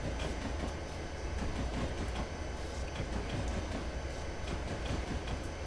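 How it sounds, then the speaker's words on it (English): A train coasting downhill in the Railworks simulator makes a continuous broadband rumble of rolling wheels on rails with faint rhythmic clicks, steady and fairly loud with no engine surges. "for some strange reason my train is slowing down"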